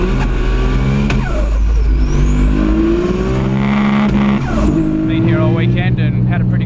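A T51R-turbocharged Toyota Supra at the Racewars 2014 race event revs hard and loud, engine note climbing and falling through sustained high-rpm pulls with a brief lift near the middle, close and dominating.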